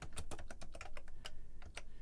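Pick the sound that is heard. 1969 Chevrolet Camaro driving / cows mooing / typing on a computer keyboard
typing on a computer keyboard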